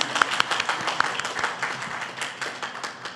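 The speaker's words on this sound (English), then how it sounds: "We can give her a round of applause" A round of applause from an audience at a governor's health care event, a brief patter of scattered hand claps, moderate and thinning out.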